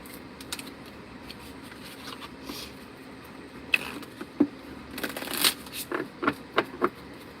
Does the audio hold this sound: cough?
no